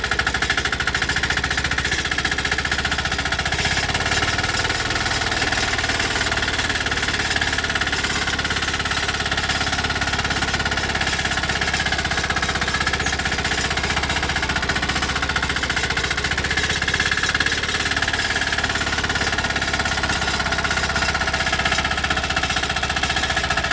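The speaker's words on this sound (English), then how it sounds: "Even at low idle, this thing's got all the torque and horsepower you need to move." A 186F engine on a small machine runs at low idle in second gear while pulling a load of dirt, giving a loud, close, steady knocking chug that continues without a break for the whole stretch, with no talking.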